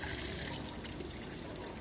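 Water poured into a water bath for a cement soundness test with a Le Chatelier mould, heard as a steady, continuous close pour and trickle with no break throughout.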